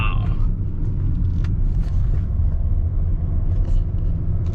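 A 2011 Saab 9-5 with a replaced intercooler drives under full power, its engine giving a steady, close low rumble with faint road noise throughout.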